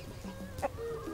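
Farm chickens cluck softly in a brief moment, with one short, slightly louder cluck standing out over a low, steady background.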